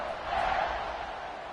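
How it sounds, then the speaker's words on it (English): A football stadium crowd buzzes as a broad, steady roar of many voices after a touchdown, heard at a distance without clear individual words. "this crowd is buzzing after that last score"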